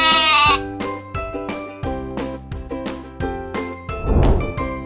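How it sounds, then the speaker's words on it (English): A sheep bleats several times in a row, loud and close, with short wavering calls separated by brief pauses. "Sheep."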